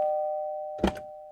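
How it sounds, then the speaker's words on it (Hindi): A doorbell at the front door of a house rings, a single sustained electronic tone that fades away, followed by a couple of soft thumps. "एक दिन रमन के घर के दरवाजे की घंटी बजी।"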